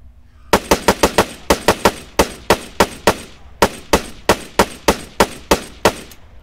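Spar-17 rifle firing in Arma 3, a fast series of loud, sharp gunshots in short bursts of several rounds each, separated by brief gaps, close and alone with no talk.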